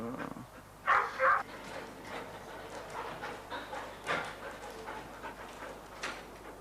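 Police RAID unit dogs warming up, with close panting, a couple of short sharp barks or yelps and soft whimpers over a low rumbling background.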